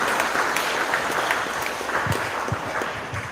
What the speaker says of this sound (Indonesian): Tepuk tangan untuk masyarakat Melayu